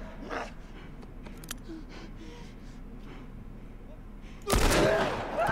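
Gunfire in the video game The Last of Us Part 1, with scattered faint shots and effects, then a sudden loud burst near the end; a voice briefly reacts.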